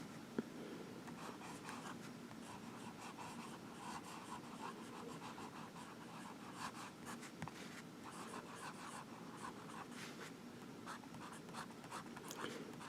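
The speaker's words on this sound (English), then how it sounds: "I needed to see how the broad gold nib wrote" A Diplomat Aero fountain pen with a broad gold nib scratches softly across paper in steady strokes, a faint, close, dry whisper that continues throughout.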